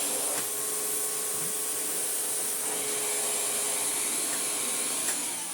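A Hoover vacuum cleaner with a metal-plated floor head runs steadily, a loud continuous whooshing drone that holds level throughout with a few faint rubbing ticks and no talk.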